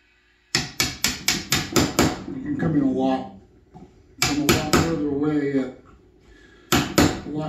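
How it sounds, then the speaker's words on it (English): A chisel chops out a wood joint with a rapid run of sharp, close strikes, then another burst of blows a little later, with someone talking in the gaps between the bursts. "You'd be surprised how much material you can move with a chisel really quick."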